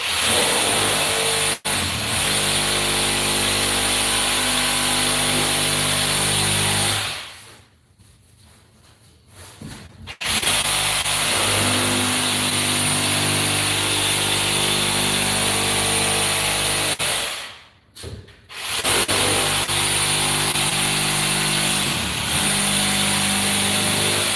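A power saw cuts through a section of wall on a jobsite, a loud, steady sustained whine that twice drops away for a couple of seconds before biting in again.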